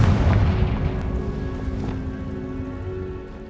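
In Hogwarts Legacy, a cast Confringo spell lands as a deep, booming fiery blast close by, its rumbling low impact fading out over a few seconds.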